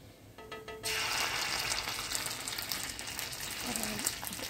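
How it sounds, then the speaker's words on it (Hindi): Garlic paste hitting a pan of hot oil with roasting carom seeds for masala bhindi, a loud broadband sizzle bursting in after a quiet start and holding steady, close and continuous with no talk. "ये देखिए अजवाइन अच्छे से भुनने लगी है। उसके बाद हम इसमें लहसुन का पेस्ट डालेंगे"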